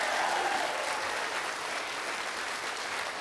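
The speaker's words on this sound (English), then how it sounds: "Give him a big round of applause." A political rally crowd in Grand Rapids breaks into steady, dense applause, a continuous wash of clapping heard from within the audience at moderate level.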